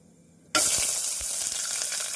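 After a short quiet moment, a sudden loud sizzle bursts out as chopped onions hit hot oil with cumin and fennel seeds, then keeps crackling and hissing steadily.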